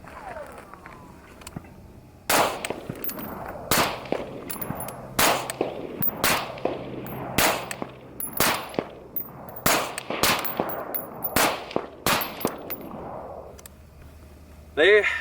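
Suppressed rifle shots through a Surefire Socom RC2 suppressor, about a dozen sharp reports fired one after another at roughly one-second intervals, each trailing into a brief ring, loud and close.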